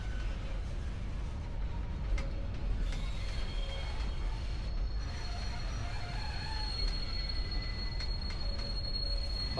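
A train running on rails near Virginia City, Nevada: a steady rumble of wheels with high drawn-out squeals of metal on track rising and fading, continuous and fairly close.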